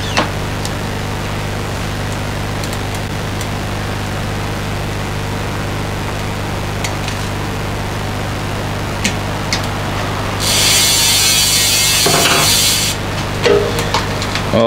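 Rear hub freewheel on a Pivot Shuttle full e-bike ratchets in a fast, loud buzzing whir for about two seconds over a steady low background hum, with faint scattered clicks before it.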